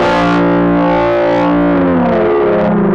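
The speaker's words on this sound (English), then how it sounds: "if you go in between, you can get a really distorted and noisy kind of effect" Thick, distorted, noisy guitar-like tone shaped by the mix knob of the Psy Amp multi-effect plugin, loud and dense with shifting harmonics, heard alone.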